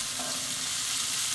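Sliced onions frying in sardine fat, an unbroken, even, close sizzle that is brief and steady, with no talking.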